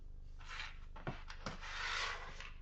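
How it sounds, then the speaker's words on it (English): Screws being worked back into a cheap thrift-store guitar, heard as close, quiet scraping and rubbing with a couple of short clicks and a longer grinding twist near the end, with no talk. "Put all these screws back in here."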